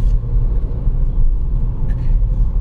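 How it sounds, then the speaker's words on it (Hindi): A car winds along a mountain road in Uttarakhand, its engine and tyre rumble a steady, close, low drone from inside the cabin with no break and no talk. "ऐसा लग रहा है गाड़ी अपने आप चल रही है"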